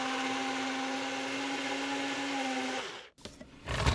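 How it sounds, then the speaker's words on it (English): Kitchen blender running steadily on enchilada sauce ingredients, a loud constant whir with a humming drone that cuts off abruptly near the end, followed by brief clattering handling noise. "I'm just going to blend these in here"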